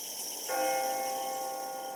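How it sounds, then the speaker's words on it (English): A courthouse fire bell strikes once and its bright, sustained tone rings on steadily over a constant background hiss. "the fire bell rang from the courthouse."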